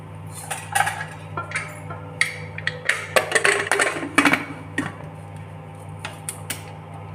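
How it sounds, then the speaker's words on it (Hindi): A metal pressure cooker lid is fitted and closed, giving a series of close clinks, clicks and scrapes of metal against metal over a faint steady kitchen hum, with no talking. "तो कुकर भी बंद कर ही लेते हैं।"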